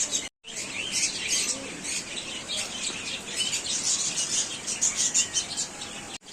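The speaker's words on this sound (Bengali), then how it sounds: "এটা হচ্ছে বাজরিকা" A budgerigar in a park aviary chirps in rapid, continuous high twitters and chatter, fairly close and lively, with other birds and faint insect sounds around it and no talking.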